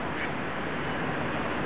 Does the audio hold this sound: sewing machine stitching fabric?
no